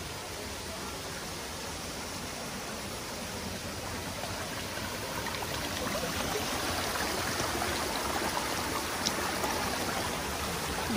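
Steady broadband rush of water from a flowing mountain stream, Tso Kong Tam Stream in Hong Kong, heard close and continuous, growing slightly louder toward the end with no voices.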